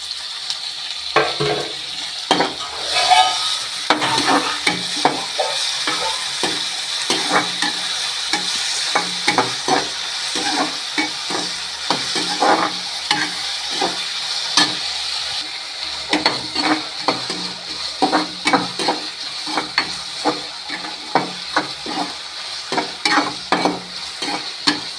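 Tomatoes sizzle and fry in a pan for avarampoo kurma while a spoon stirs them steadily, with a continuous crackle and frequent scraping strokes close up throughout.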